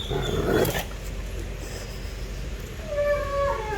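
A dog growls and grumbles while meeting other dogs, a low rumbling growl with a sharper burst early on and whining tones later, close to the microphone over steady room noise.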